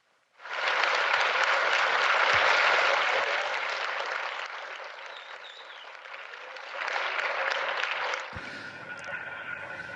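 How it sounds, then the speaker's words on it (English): Students at a school applaud, a steady, full clapping sound that swells at the start, eases off and briefly rises again near the end before fading into room noise. "oh, they're clapping."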